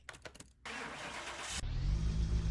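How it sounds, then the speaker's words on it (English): A simulated turbocharged inline-five engine in a sunset yellow Audi RS2 from Car Mechanic Simulator 2021 cranks with a few brief turnover pulses, then a whirring start that settles into a loud, steady idle; no speech. "let's get this turbocharged i5 engine all started and see what she sounds like"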